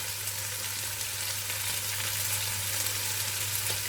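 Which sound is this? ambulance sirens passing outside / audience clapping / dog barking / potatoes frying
potatoes frying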